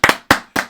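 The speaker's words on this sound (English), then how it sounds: "Clap." Three sharp hand claps, evenly spaced and close, loud and alone with no voices.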